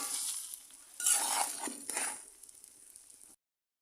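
Chilli powder is stirred into olive pickle in oil, giving a close, hissy sizzle and brief scraping strokes that swell in the middle and then stop abruptly into silence.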